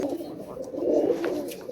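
Malwai and Madrasi pigeons coo at a loft sale in Budge Budge, South 24 Parganas, with soft, close, throaty rolling calls swelling midway and then tapering, and no talking.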